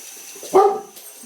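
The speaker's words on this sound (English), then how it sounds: "That's our dog." A single loud dog bark close by, one sharp burst standing out against a quiet indoor background.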